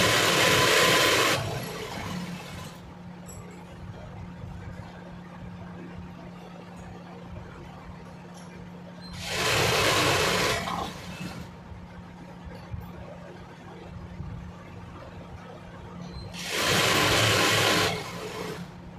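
A sewing machine stitches a fall onto a sari in three separate loud bursts of fast whirring, each a second or two long, separated by quiet pauses with faint background hum.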